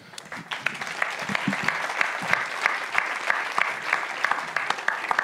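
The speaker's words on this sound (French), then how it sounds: "on peut l'applaudir parce que..." Audience applause at a volunteering conference rolls on steadily at moderate distance, a dense patter of many hands with a few sharper claps standing out, and no speech on top.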